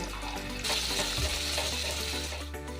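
Garlic and ginger sizzle steadily in hot oil, a close, continuous hiss with a brief stirring scrape partway through.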